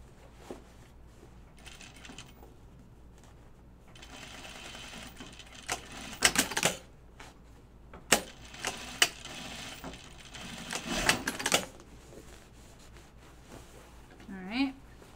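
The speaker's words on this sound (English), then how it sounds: "And now we can basically stitch our waistband." A sewing machine stitches a waistband on a pair of slacks being turned into shorts. Short bursts of whirring stitching and clicks come between quiet stretches, close and moderately loud.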